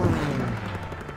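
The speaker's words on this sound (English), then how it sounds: "I hear gunshots." Gunfire in the World War II zombie mode of Call of Duty WW2, a loud burst of several booming shots packed close together, then fading over about a second.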